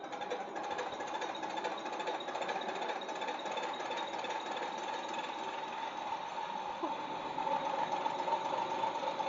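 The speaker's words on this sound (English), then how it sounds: "Now we will show you how to testing mechanical pumps on our MINI12PSB diesel injection pump test bench." A MINI12PSB diesel injection pump test bench runs with a mechanical injection pump, giving a steady, dense mechanical whir and rapid clatter that holds at an even loudness throughout, with no voices.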